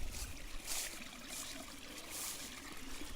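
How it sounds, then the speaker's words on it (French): Small streams trickle along a rural walking route between Auch and L'Isle-de-Noë, a faint, steady babble of running water with soft splashy swells, heard alone with no voices. "Il y a des ruisseaux partout ici."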